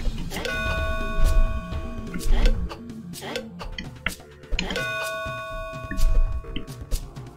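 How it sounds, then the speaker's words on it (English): A bell in the Super Skelemania video game rings out with bright, sustained tones twice, each strike ringing clearly over a busy game background. "Headbutt the bell to save."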